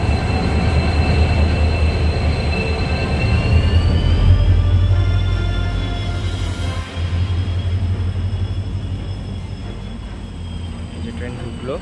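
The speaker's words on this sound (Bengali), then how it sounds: "এই যে ট্রেন ঢুকলো" A DEMU passenger train on the Siliguri Junction–Changrabandha–Bamanhat line pulling into a station, a loud, close, heavy rumble with a rising and falling engine whine, and faint voices in the background.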